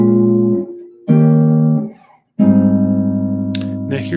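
Full chords of a jazz standard played on electric guitar, sounding as three sustained strummed chords with short gaps between them and a little higher melodic movement near the end, clear and close.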